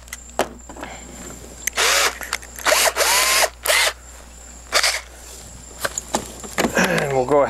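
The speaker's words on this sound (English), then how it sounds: "we're going to need to ream this one out. So we'll take a 1/4-inch bit" A power drill with a 1/4-inch bit reams out a hole while installing a U-stand, loud close whirring in several short bursts of one to two seconds, with pauses and handling noises between them.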